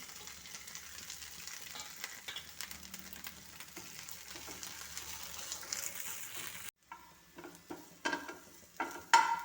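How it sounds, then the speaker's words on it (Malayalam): Capsicum sautéing in oil in a pan, a continuous close crackling sizzle with stirring scrapes, growing louder and more broken toward the end, no talk. "ഇനി പാനിൽ കുറച്ച് എണ്ണ ഒഴിച്ചിട്ട് ഈ ക്യാപ്സിക്കം വാട്ടിയെടുക്കാം."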